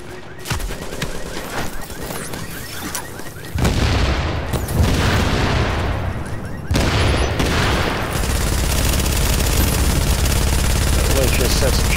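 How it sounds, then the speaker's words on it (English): Video game gunfire and shooting crackles in dense, sustained bursts with heavy booms, loud and continuous through the stretch, with a voice partly mixed in. "I hear some shooting and gunfire and whatnot"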